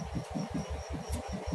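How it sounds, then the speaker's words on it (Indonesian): A tractor engine driving a rice huller runs steadily at a distance, giving a continuous low rhythmic chugging with an even mechanical pulse and no break. "Traktor selep."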